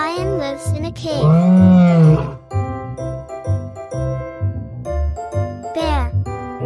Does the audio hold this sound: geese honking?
no